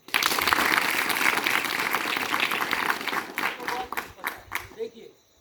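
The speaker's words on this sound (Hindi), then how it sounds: "एक बार फिर से तालियां" School children at a tuberculosis and nutrition awareness session clap together in a loud burst that thins out and fades over about five seconds, with some voices mixed in.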